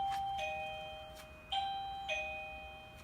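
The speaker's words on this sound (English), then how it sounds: "if you guys are thinking about getting a wireless doorbell, this is a great buy" An AlierKin wireless doorbell chimes indoors with clear, ringing electronic tones, a bright ding repeated a few times with lingering decay, alone without talking.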